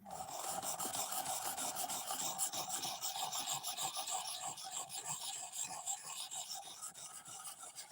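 A file works along the bevels of a knife blade, a close, continuous dry rasping made of quick back-and-forth strokes that barely pause, with no voices.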